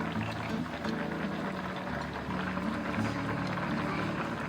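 Sour plum chicken feet sauce simmering and reducing in a pan, a steady low bubbling and sizzling that runs continuously at moderate distance with no talk.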